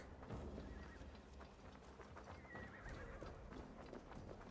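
Hooves clip-clop continuously under a horse's snorts and whinnies in the video game Assassin's Creed Valhalla, the steady trotting rhythm filling the whole stretch at a moderate, fairly quiet level.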